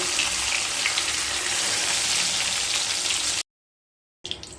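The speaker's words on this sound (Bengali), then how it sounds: "চিচিঙ্গেগুলোকে কিন্তু এইভাবে খুব সুন্দরভাবে ভেজে নিতে হবে" Snake gourd (chichinga) pieces frying in oil, producing a dense, loud crackling sizzle that cuts out abruptly into silence for a moment before resuming.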